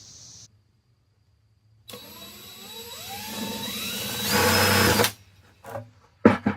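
A power drill boring a hole for an incoming water pipe for a yard spigot, whining up to speed, climbing in pitch, then loud and near for a few seconds before stopping, followed by a few brief knocks.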